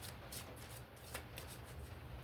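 Tarot cards are shuffled by hand, a close, crisp riffling patter of repeated soft flicks and slaps that continues without a break, with no voices.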